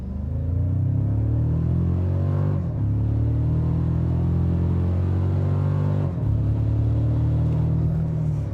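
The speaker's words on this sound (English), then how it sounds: "We're gonna go ahead and brake torque it and see what we can get." A 2025 Toyota Tacoma Trailhunter in sport mode launches from a brake-torque start, its engine droning loud and steady as it climbs through the gears, with brief dips at each shift.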